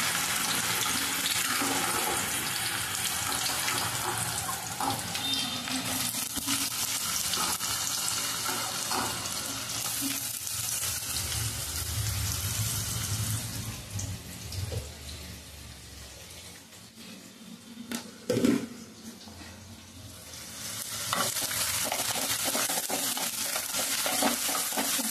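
Onion and garlic frying in a pan for a banana flower curry, a continuous hiss of sizzling oil that dips midway with a few stirring clatters before resuming loud.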